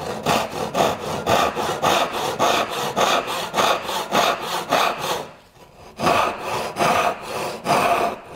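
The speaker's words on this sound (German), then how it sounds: "bleibt beim Sägen aber ein klein wenig vom Riss weg" Rhythmic hand sawing through wood while cutting dovetail joints for drawers, steady back-and-forth strokes close and loud, with a short pause before the strokes resume.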